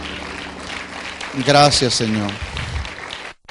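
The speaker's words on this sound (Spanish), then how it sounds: "Demos un aplauso de alabanza a nuestro Dios." A church congregation claps in praise during a Spanish-language sermon, a short swell of applause under a voice speaking over it.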